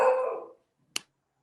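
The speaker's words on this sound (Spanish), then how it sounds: "Escucho un perro. Sí, es mi perrita" A small female dog gives a single short, sharp bark indoors, heard alone just after a fading burst of other sound.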